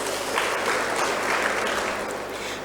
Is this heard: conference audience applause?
yes